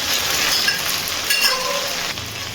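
Sweet potato and flat beans tossed with spices in hot oil for shukto, a dense continuous sizzle close up, with light scraping and clinks of a spoon stirring.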